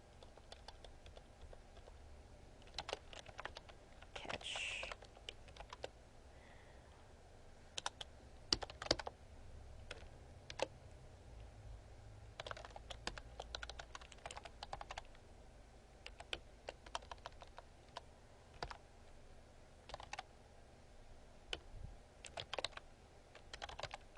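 Typing on a computer keyboard during coding work, irregular bursts of light key clicks with short pauses, close and quiet, no talking.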